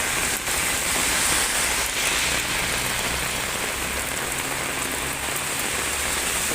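Heavy rain pours steadily in Delhi, a dense, continuous hiss of drops drumming on surfaces close by, loud and unbroken throughout with no voices.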